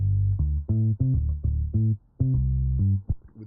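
An uncompressed bass track from a beat, with deep, punchy notes in a choppy rhythm and a brief gap partway through, loud and upfront, playing alone.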